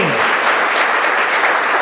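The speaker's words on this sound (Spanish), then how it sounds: "Den un aplauso al Espíritu Santo de Dios. Vamos a dárselo bien fuerte." A church congregation claps loudly and continuously, a dense, close roar of many hands with no pauses, filling the space throughout.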